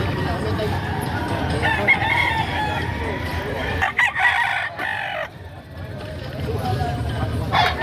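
Roosters crow amid clucking fowl at a livestock auction market, with people talking nearby over a busy, noisy outdoor background.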